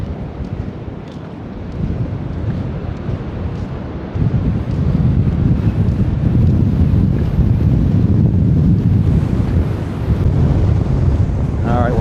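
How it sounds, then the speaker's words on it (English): Cold wind buffets the microphone on a sleety beach near a lighthouse, a loud roaring rumble that gusts up and stays strong, with a surf-like wash beneath it. "It's quite cold and windy out here."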